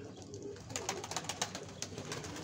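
Pigeons coo softly on a hot rooftop, a few low murmuring calls rising and falling over about two seconds amid faint outdoor ambience, with no one speaking.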